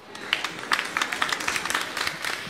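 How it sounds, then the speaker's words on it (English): Steady, dense clapping from an audience greeting a contestant at the World Chocolate Masters 2013 pastry competition, moderately quiet and sustained for a few seconds with no voices over it. "On peut l'applaudir très fort."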